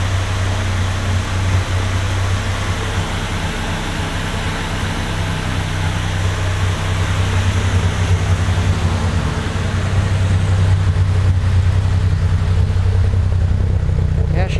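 Datsun 260Z with an automatic transmission idling steadily up close, a continuous low engine rumble with a faint fan-like hiss over it, holding an even pitch throughout.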